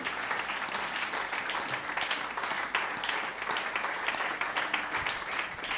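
Church congregation applauding at a Sunday service, a sustained dense wash of many hands clapping together, even and continuous throughout.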